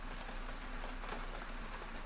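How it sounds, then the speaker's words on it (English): A heavy torrent of rain pours down in a steady, faint wash of dense patter for a story, with a low hum underneath and no voices. "the torrent of rain"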